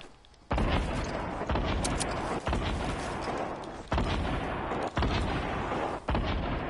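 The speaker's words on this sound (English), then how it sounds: "Who's shooting your grenade launcher?" Repeated heavy booming blasts from a grenade launcher in a console shooter game, loud and dense, firing in an uneven series of explosive thumps with almost no gaps.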